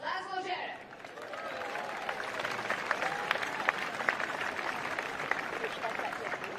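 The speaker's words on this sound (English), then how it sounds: "exits to a nice applause after his loss to Cameron Norrie" A tennis crowd applauds steadily as a player exits after his loss, a dense wash of clapping that continues throughout, with a voice speaking briefly at the start.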